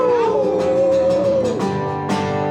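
A person imitates a wolf howl with one long, loud, gliding vocal cry that rises and then falls, followed by shorter yelping tails, performed live at an open mic.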